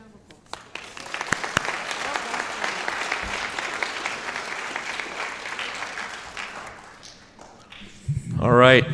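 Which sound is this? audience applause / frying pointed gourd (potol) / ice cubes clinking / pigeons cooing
audience applause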